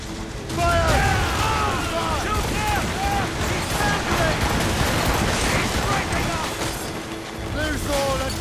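Ship cannons firing in a naval battle in Assassin's Creed Rogue, a loud continuous barrage of booms under shouted voices and orchestral music throughout.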